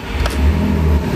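Audi TT engine running steadily up close, a continuous low rumble with a slight rise in revs, no voices.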